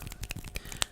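Scissors snip through assorted materials in close, crisp ASMR style, a quick run of sharp cuts and rustles within a second, with one bright metallic snap near the end.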